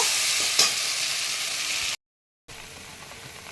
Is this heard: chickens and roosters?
no